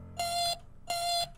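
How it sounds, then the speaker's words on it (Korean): Heart monitor beeping in the Friday Night Funkin video game: two long, loud electronic tones about half a second each, separated by a short pause, over a low background hum. "심장박동기 소린데?"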